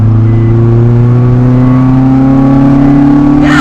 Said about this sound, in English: Let me floor it a bit.